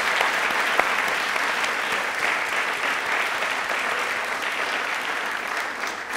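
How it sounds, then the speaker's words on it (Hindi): Studio audience applause on a Rajasthani TV quiz show, a dense, steady roar of many hands clapping at full strength throughout, with no voices over it. "तालियां प्लीज एक बार दिल से जोरदार बजा दीजिए इस बात के लिए।"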